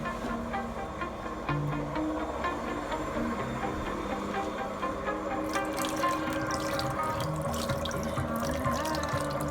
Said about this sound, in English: I'm running this under both hot and cold water here.